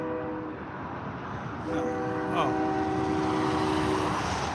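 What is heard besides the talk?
passing train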